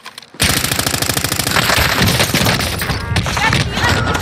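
Rapid automatic gunfire in a Call of Duty Warzone match, a dense burst of near, loud shots that runs almost continuously after a brief quiet start, with faint talk underneath.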